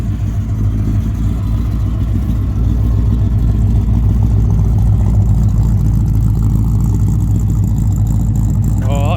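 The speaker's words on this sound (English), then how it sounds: "Get the noise of the exhaust." A Ford Mustang at a vintage vehicle rally in Craigtoun Country Park, Scotland, idles and revs with a steady deep exhaust rumble. Voices carry faintly in the background.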